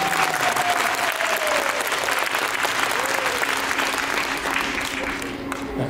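Sustained applause from a theme park show audience at Universal Studios Japan's Universal Monsters Live Rock and Roll Show, steady and dense throughout, with a faint voice and tonal sounds underneath.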